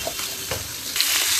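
Poli fish frying in a pan for a fish curry, with a steady hot-oil sizzle and brief stirring scrapes, growing louder near the end with no talk.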